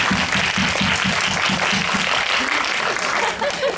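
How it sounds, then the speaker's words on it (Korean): Loud, close applause from a cinema audience at a premiere guest screening with a Q&A, steady clapping with a few audible rhythmic claps, a faint voice near the end. "박수 한번 주세요."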